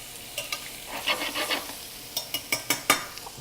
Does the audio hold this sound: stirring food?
yes